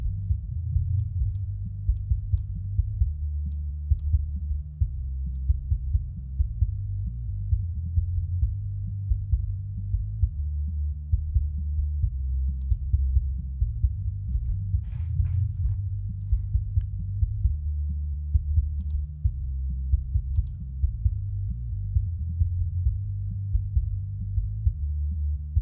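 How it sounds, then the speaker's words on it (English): Kick drum and bass isolated as the low end of a rock mix: a steady, throbbing thump of kicks under a rumbling bass line, deep and continuous with the upper range filtered away. "make sure our kick and bass are feeling okay."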